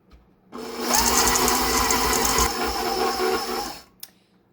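Electric mixer beating chocolate chip cookie dough with the chips stirred in, a loud steady motor whir that starts abruptly, runs for about three seconds with slight changes in pitch, then stops.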